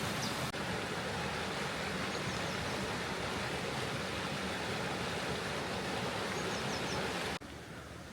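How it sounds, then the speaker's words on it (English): Water pours steadily over a small weir where a canal outflows into a river, a constant broadband rushing that stays loud and even for about seven seconds before dropping slightly at the end; no voices. "Another little weir, bit of an outflow from the canal into the river."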